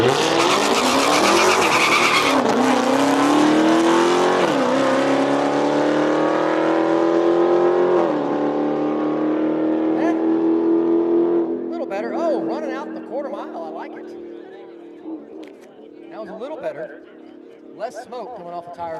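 A Dodge Hellcat with traction control on launches hard down a drag strip at a raceway, a loud roaring engine with tire squeal that fades into the distance as the car pulls away.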